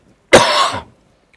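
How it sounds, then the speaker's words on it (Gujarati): A man gives a single short, harsh cough, close and loud, alone in an otherwise quiet room. "ખાંસી આવે છે?"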